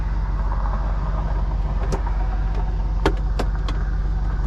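A 1966 Pontiac Lemans with a 2-barrel carburetor cruises on a test drive, its engine a loud steady drone inside the cabin, broken by a few sharp clicks or knocks.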